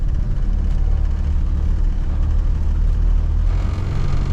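A 1975 Ford Pinto with missing interior trim pulls away, its engine a steady low rumble and whir filling the whole stretch at close range, with no talk over it.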